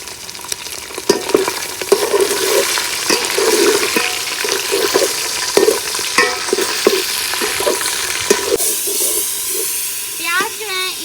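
A spoon stirs rice in a pot for beef pulao, giving repeated scraping and clinking strokes over a continuous hissing sizzle; a voice briefly speaks near the end.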